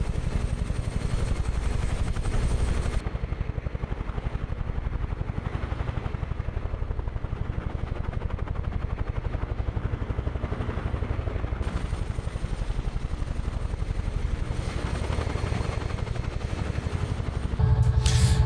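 UH-1H Huey helicopter in a flight simulator game, a steady droning rotor and engine hum that stays loud and unbroken throughout, with a low rhythmic thump underneath.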